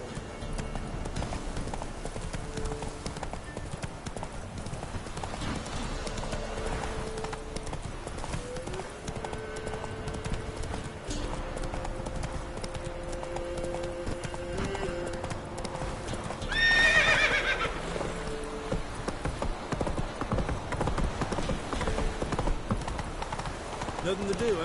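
A horse in a PS4 video game clip-clops steadily at a gallop across the whole stretch, with a whinny rising briefly about two-thirds through, while voices talk over the hoofbeats.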